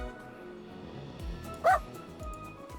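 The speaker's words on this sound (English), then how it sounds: "A small brown dog, only a little larger than the pongo, watches us." A small brown dog in the video game Crystalline gives one short, close yip-like bark that rises briefly over a quiet musical background.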